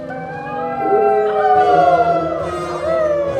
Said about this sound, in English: she heard the low and menacing growling of wolves